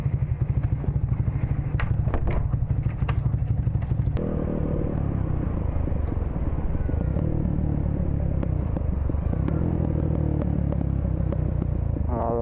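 Honda Grom motorcycle fitted with a dual exhaust, heard up close as it idles and pulls away, its engine drone steady and loud with some clattering and thumps throughout.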